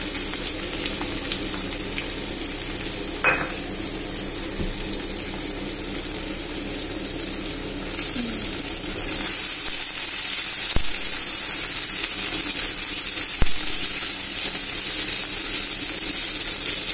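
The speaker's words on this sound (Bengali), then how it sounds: "পেঁয়াজটা একটু ভালো করে ভাজা হবে লাল লাল করে" Thinly sliced onions frying in a pan with cinnamon, cloves and bay leaves, a continuous close hiss that swells louder and brighter partway through, with a couple of sharp clicks.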